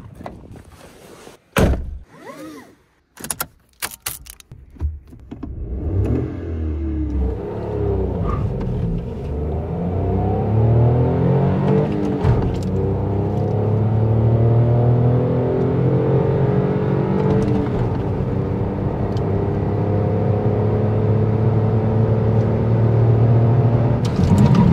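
A Toyota Aygo X small crossover during a performance test: a few door thunks and handling knocks, then a loud, close engine rumble that rises in pitch as the car accelerates hard and holds a strained drone.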